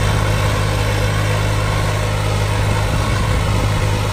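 Old tractor engine running steadily under load while pulling a 16-disc harrow through a wet field, a loud continuous low drone with constant rumble and no talking.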